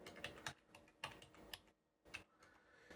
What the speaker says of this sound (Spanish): vamos a escribir la IP de nuestro Home Assistant